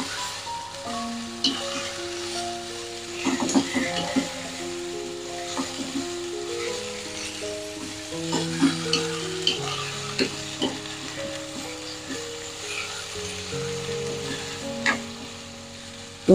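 Carrots, green beans and bean sprouts stir-fry in a spiced sauce, giving a steady sizzle broken by repeated spatula scrapes and taps against the pan, close and unaccompanied by speech.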